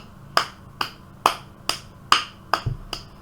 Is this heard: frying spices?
no